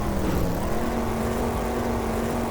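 Car engine in the Pudgeworld post-apocalypse video game, a steady droning hum with a sustained low tone that shifts slightly in pitch, continuous and fairly loud over about two and a half seconds, no talking.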